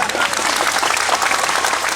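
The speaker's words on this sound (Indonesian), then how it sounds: "Tepuk tangan dulu nih." Lively crowd applause at an Indonesian political gathering, with many people clapping continuously and loudly, a faint voice or two mixed into the clatter.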